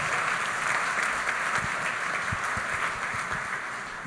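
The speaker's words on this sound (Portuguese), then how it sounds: "Aplauda Jesus, queridos" Congregation at a church convention applauding, a steady, dense wash of clapping that fills the whole stretch with no talk over it, easing slightly toward the end.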